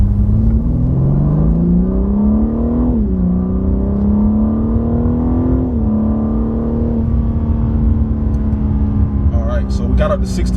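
A BMW G80 M3 in Sport Plus mode accelerates hard from low speed, the engine note climbing steadily with brief dips at gear shifts, loud and close throughout, ending with faint clicks.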